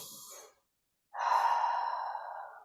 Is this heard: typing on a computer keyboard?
no